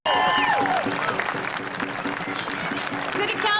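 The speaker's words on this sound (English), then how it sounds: "let's give him a round of applause" Rally crowd applauding, a dense burst of clapping and cheering that starts abruptly and holds steady throughout, with a voice over a loudspeaker briefly heard at the start.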